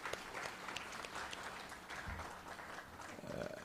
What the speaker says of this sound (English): So please join me to have a big applause to the whole team.